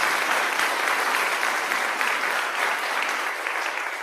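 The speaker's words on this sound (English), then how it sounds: "Yeah, we can clap." A church congregation at a Sunday service claps together, a loud, sustained wash of many hands that holds steady and eases slightly at the end, with no voices over it.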